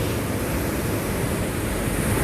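Water rushes through the Upper Ganga Canal near Sanota, Bulandshahr, turning a watermill that grinds flour, heard as a loud, steady broadband roar with no pauses.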